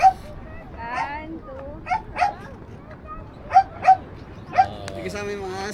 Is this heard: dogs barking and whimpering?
yes